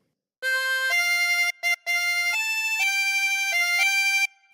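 The first phrase of Auld Lang Syne rings out on a chromatic harmonica, with bright reedy blown and drawn notes in a steady melodic sequence, close and clear, alone, before a short pause.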